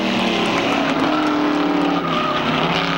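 Mercury Cougar stock cars race at Seekonk Speedway, engines roaring loudly and continuously as the pack drives through the corner, a dense, sustained motor drone with no talk over it.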